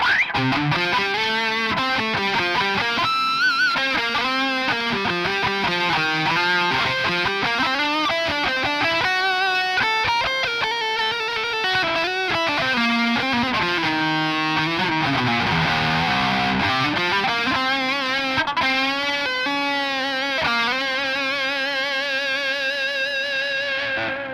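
Sustained, compressed electric guitar lead tone, playing a melodic line with smooth, singing notes and bends, loud and steady throughout with no talking.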